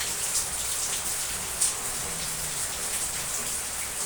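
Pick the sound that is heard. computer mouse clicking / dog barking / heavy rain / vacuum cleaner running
heavy rain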